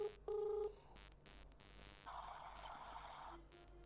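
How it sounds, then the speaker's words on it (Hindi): Quiet telephone tones over a speakerphone line: a short beep, then static and hiss with faint electronic dialing sounds. "फोन स्पीकर पे है और आप सब लोग, ये महेश पाल जी को हम फोन लगा रहे हैं"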